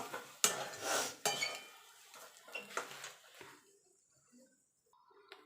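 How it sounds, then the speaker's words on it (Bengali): A spoon stirs fried spice mix into egg chop filling in a pan: a few close scraping strokes and clinks against the metal, then quieter, fading movement. "দিয়ে ভালো করে নাড়াচাড়া করে নেব"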